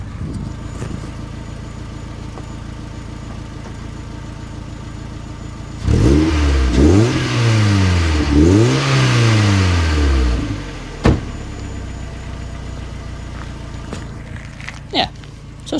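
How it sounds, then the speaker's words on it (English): Mazda MX-5 engine fitted with a stainless steel exhaust, revved hard twice in a row with rising and falling pitch, loud and close, then dropping back to a quiet idle burble. "Let's give her a bit of a rev."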